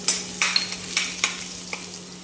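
Garlic hits well-heated oil in a kadhai and fries with a bright crackling sizzle, marked by a few quick sharp spatters and scrapes in a short burst with no talking.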